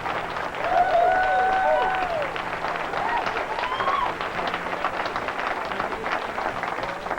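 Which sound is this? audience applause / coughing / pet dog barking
audience applause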